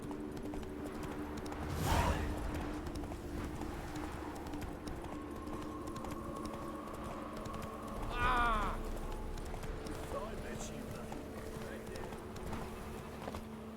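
Horse hooves clip-clop at a run across the ground in the video game Witcher 3: Wild Hunt, a rhythmic gallop rising in two surges under faint game ambience, with a voice speaking briefly over it.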